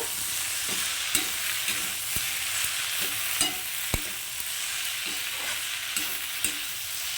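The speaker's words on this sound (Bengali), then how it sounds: "আর সব শেষে দিয়ে দিচ্ছি একটু ধনে পাতা কুচি এবার এটাকেও খুব ভালো করে মিশিয়ে নেব" Data chorchori with sugar, chilli and chopped coriander is stirred in a sizzling pan, with a steady frying hiss and regular soft scrapes and taps of the spatula, no voices.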